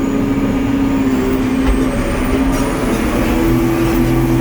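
An old Allis Chalmers tractor engine lugging hard at wide open throttle while pulling a soybean planter in low gear, a loud, steady low drone with a constant pitch that continues without a break.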